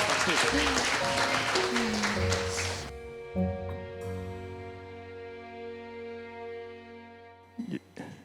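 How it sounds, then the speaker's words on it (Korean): An audience at a talk event claps, a dense wash of applause that is loud at the start and stops abruptly after about three seconds, followed by sustained musical tones and a few faint noises. "우리 차인표 후원자님께도 박수를 보내주시면 감사할 것 같습니다."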